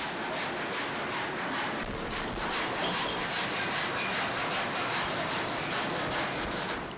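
A steady, loud rumbling clatter with a continuous broadband roar and faint rhythmic knocks, like a train rolling over a wooden coaster track close by.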